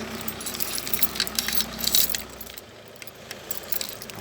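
Car keys jangle and clink in a garage, a bright metallic rattle for a couple of seconds that fades to quieter chinks, with a low engine rumble underneath.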